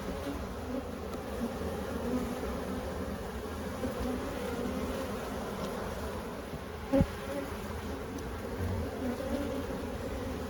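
Steady, close buzzing of honey bees fills an open beehive during a late-season hive inspection, a continuous drone with no talk over it.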